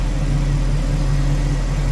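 A 1967 Chevrolet Camaro convertible's 327 V8 idles steadily, a loud, even low rumble with a smooth, continuous throb and no talking.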